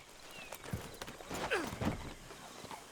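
A horse in Red Dead Redemption 2 walks with a few soft, uneven clip-clop hoof steps, fairly faint and close, alongside brief whinny-like sounds.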